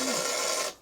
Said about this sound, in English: we hear a little suction as air gets in there